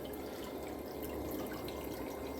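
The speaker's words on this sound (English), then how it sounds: "I turn the water flow up a little bit." Water runs steadily over a homemade miller table used to catch fine gold, making a constant, even wash of flowing water with no talk.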